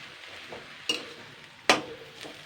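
Onions are stirred in a dry wok: a soft scraping hiss with two sharp clinks of a spatula against the pan, close and fairly quiet.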